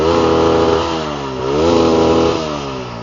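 A TVS Apache RTR 160 4V motorcycle with a dual-barrel exhaust revs loud and close, its pitch dipping and climbing again in a throaty rising-falling drone, with no talk.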